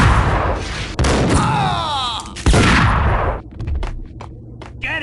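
Gunfire in the video game Max Payne comes as loud bursts of shots mixed with booms and shouting voices, then sharp single shots crack out in quick succession.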